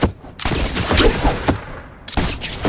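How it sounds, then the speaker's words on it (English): Rapid minigun fire in a video game, a dense roaring burst of shots with a sharp break near the middle and another burst starting near the end, loud and close. "Minigun!"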